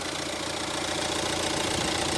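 A 2009 Hyundai Santa Fe MLX diesel with automatic transmission runs at a steady idle, with a constant rough mechanical drone and a faint knocking texture close by.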